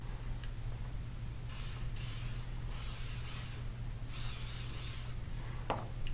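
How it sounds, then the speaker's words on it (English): Short hissing bursts of WD-40 lubricant sprayed from an aerosol can onto a sausage gun, three or four in a row, close by over a constant low hum. "spray the front with a little bit of WD-40"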